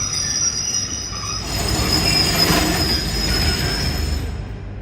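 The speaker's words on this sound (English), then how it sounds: "so it looks like a historic train, but it's operating" A historic train rolls into a platform in Porto, Portugal, with steady rumbling and a long, high metallic wheel squeal ringing above it, close and loud, easing off at the end.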